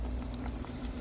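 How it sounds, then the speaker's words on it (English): Shrimp fry in hot grease in a pot, a soft continuous crackling sizzle with small pops, faint and close, with no talking. "Now we're gonna slowly add in our shrimp"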